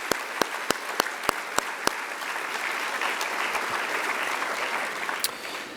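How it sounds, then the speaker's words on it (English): Audience applause at a senior scholarship recognition ceremony, a steady wash of many hands clapping for the presenters, moderately loud and sustained, with a few sharp individual claps standing out at the start. "Please give all of our presenters a big round of applause to thank them before we begin."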